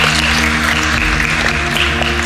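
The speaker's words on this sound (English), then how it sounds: "big warm applause for Warren Henry Auto" A big warm round of applause from the crowd at a youth basketball camp event, a dense steady wash of clapping with loud music humming underneath throughout.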